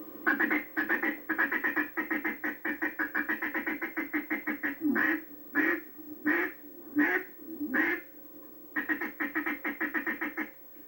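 A hand-blown duck call imitates ducks feeding on water, with quick strings of short, clipped quacks in rapid rhythm, a slower run of separate notes in the middle, then another fast burst; close and clear, no talking.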